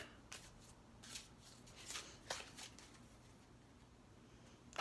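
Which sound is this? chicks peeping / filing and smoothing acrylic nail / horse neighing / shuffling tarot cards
shuffling tarot cards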